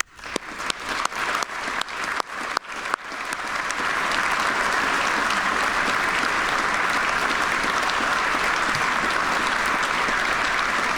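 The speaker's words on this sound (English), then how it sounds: "Please join me in a round of applause to show our deep appreciation for our state agency directors and our state employees" An audience at a governor's State of the State address gives sustained applause for state agency directors and employees, starting with a few sharp separate claps that quickly swell into dense, steady clapping that holds to the end.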